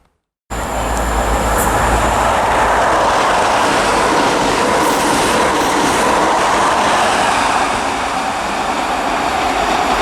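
A high speed train with power cars 43149 and 43147 roars past close by at Dunblane for the whole stretch, a steady loud rush with rhythmic clatter of wheels over rail joints.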